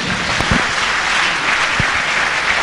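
Church congregation applauding together, a steady dense clapping throughout with a few louder individual claps standing out, no voices heard.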